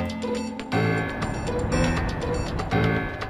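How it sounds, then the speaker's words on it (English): Coolant poured down a hole in The Hardy Boys video game, a loud gurgling, sloshing liquid rush with a few abrupt surges, over a steady background tone. "Apparently that's the sound of coolant going down the hole."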